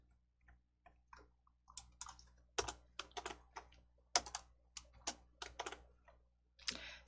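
Sharp mouse clicks and keyboard-like taps while working with blocks in Entry coding software, a scattered run of dry clicks at uneven intervals, close and clear with no voice over them.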